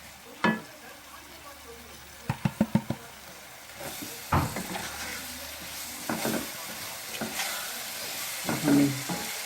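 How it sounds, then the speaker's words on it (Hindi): Boiled mash dal being mixed in a pan, with clustered scraping and clinking stirs of a spoon over a low hiss, in short bursts separated by quieter gaps, close by. "हमें इसे मिक्स करना है अच्छी तरह से।"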